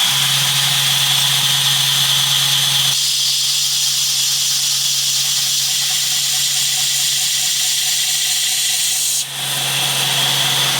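A lathe tool bit pressed lightly against an 80 grit abrasive wheel gives a steady, loud, hissing grind that carries on with no break. A faint hum runs under it, and the scraping eases for a moment near the end.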